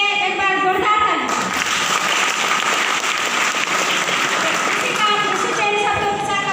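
A large audience breaks into loud, dense applause at an event, sustained for several seconds, with a voice over a sound system heard briefly at the start and end.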